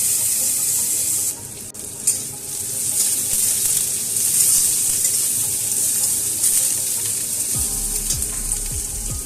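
Potatoes tipped into hot oil tempered with dried red chilli and five-spice (panch phoron), giving a steady loud hiss of frying close by, with a low rumbling burst near the end and no voices.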